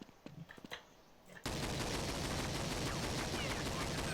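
Gunfire in Counter-Strike 1.5 on the PoolDay map, with a few sharp shots and short clicks, then a sudden sustained wall of dense, loud rapid fire, and brief voices early on.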